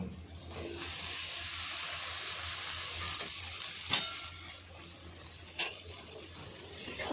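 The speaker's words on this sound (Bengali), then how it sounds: "টমেটো দেওয়ার পরে ভালো করে কষে নেবো" Tomatoes sautéing with ginger and garlic in a pan for a bottle gourd and prawn curry give a steady, close sizzle and hiss, broken near the four- and five-and-a-half-second marks by two sharp utensil clinks.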